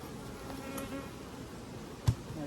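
Honey bees buzzing around an open hive, a low continuous hum that stays even and moderately near, with a brief thump partway through and no voices.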